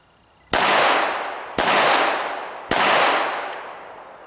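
Three sharp, loud pistol shots at an action pistol shooting event, spaced about a second apart, each with a long ringing decay trailing off into open air.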